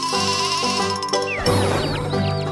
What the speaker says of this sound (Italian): Una pecora.